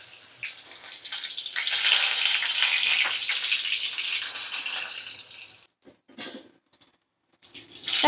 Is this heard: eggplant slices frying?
yes